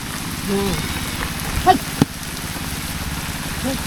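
Rain falls steadily on surfaces in a village in the Sundarbans, a continuous close patter with a few louder drops, while people talk quietly nearby.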